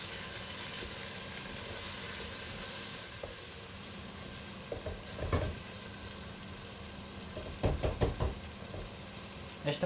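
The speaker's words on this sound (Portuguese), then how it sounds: "Vou continuar a deixar fritar muito bem" Dried meat (carne seca) for feijoada fries in a pan with onion, garlic and a bay leaf, a steady soft sizzle broken by occasional knocks and scrapes of stirring, close and moderately quiet.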